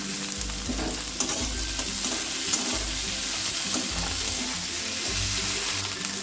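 Chopped tomato and chela fish curry ingredients fry in a pan with a steady, loud sizzle, while a spoon scrapes and stirs through them in repeated strokes.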